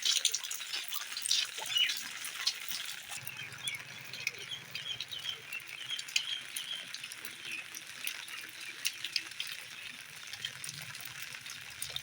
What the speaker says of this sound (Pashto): پشړک باران دی او ډېره بې انتها مزه کوي